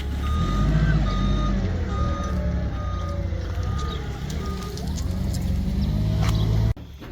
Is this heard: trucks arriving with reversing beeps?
yes